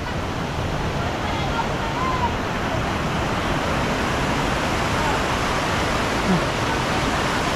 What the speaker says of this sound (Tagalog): dito tayo sa falls